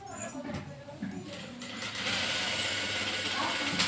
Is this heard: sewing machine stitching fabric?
yes